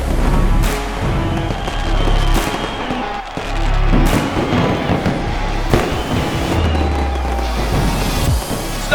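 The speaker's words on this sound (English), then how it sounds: "Fireworks are in the sky and they're also on the track." Fireworks burst over a Formula Drift track in a steady run of loud cracks and booms, with sharp reports layered over the constant roar of a crowded arena.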